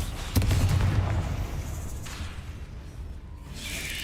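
A fiery blasting-spell explosion from Hogwarts Legacy lands as one heavy, booming burst with a low rumble that fades over a few seconds, followed by a fainter second whoosh near the end.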